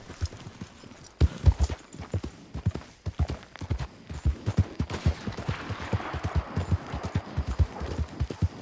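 Horse galloping in Red Dead Redemption 2, with a rapid run of heavy hoofbeats in a steady rhythm that starts after a short lull and stays close and loud to the end, with scattered rougher thuds mixed in.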